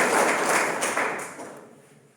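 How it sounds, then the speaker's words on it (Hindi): Audience applause at an NSS camp gathering at BNMU in Madhepura, Bihar: a dense wash of clapping from many hands, loud at first and fading away over about two seconds. "मैं एक बार पुनः आप लोगों से निवेदन करूंगा कि जोरदार तालियों से"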